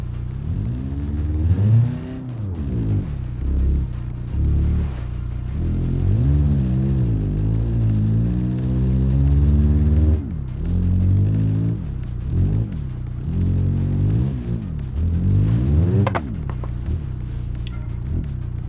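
A rally car in BeamNG drive, revving hard again and again as it shifts through gears, loud and close, with the engine note climbing and dropping over a long stretch and no talk.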